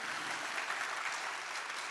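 Faint audience applause at a talk with Justice Ketanji Brown Jackson and Ava DuVernay, a soft, even wash of clapping from a distant crowd.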